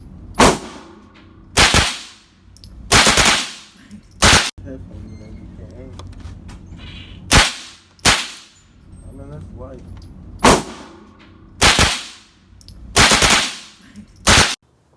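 Gunfire at an indoor gun range: loud, sharp shots ring out singly and in quick pairs across the clip, each with a short echoing decay, and people talk between them.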